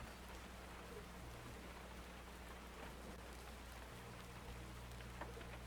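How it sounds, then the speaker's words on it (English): Steady, even rainfall in the video game Miscreated, with a soft hiss and scattered droplet patter, continuous and fairly quiet throughout. "they added some nice rain sound effects to the game where they were lacking before"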